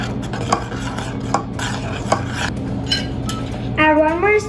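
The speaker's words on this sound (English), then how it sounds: "Now add lemon juice again. Stir it." Milk curdling with lemon juice for paneer is stirred in a pot, with repeated utensil scrapes and clinks against the metal, and a brief higher tone near the end.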